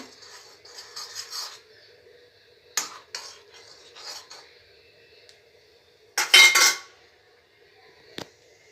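A spoon clinks and scrapes against a metal pot while stirring food colour into boiling milk, sparse taps and rattles with one louder burst of clatter, a faint voice now and then.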